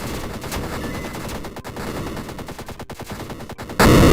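Rapid machine-gun fire from the Starfighter space shooter video game rattles in a dense, continuous stream, loud and close, with a few brief gaps before a louder burst at the end.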